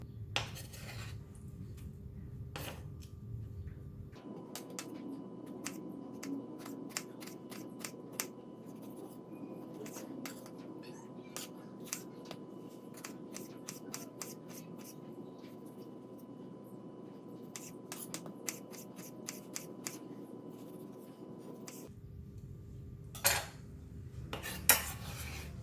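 Knife cutting corn for a Thai corn salad, with sharp clicks and taps against a board and utensil clinks, faint and close, over a soft steady background hum, with no talking.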